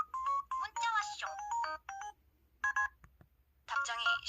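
An LG-KH8000 phone plays its text message alert, a bright, melodic, voice-like jingle heard twice in clear, close bursts with short pauses between.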